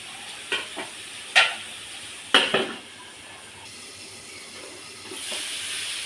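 A spiced base with turmeric and salt for a Malabar spinach curry fries and sizzles in a pan, a steady hiss broken by a few sharp stirring scrapes and clatters, close and alone without speech.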